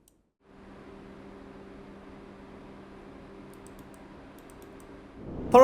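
Fan noise from a Fractal Design Torrent Compact PC case, a steady soft whoosh with a faint low hum that starts after a brief silence and holds evenly, ending in a sudden louder rustle.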